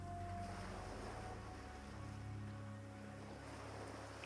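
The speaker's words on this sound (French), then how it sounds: "Au-delà du bruit des vagues" Ocean waves breaking along the seaside, a steady, continuous wash of surf with a low rumble underneath, moderately loud and unbroken throughout.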